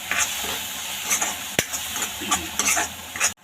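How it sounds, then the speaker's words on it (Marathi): Masala spices including chilli powder, coriander powder and garam masala frying in hot oil at home, a steady close sizzle with busy stirring and scraping of a spoon in the pan and a sharp clink partway through. "आता आपण हे व्यवस्थित फ्राय करून घेऊया दोन मिनटं मसाल्यांमध्ये"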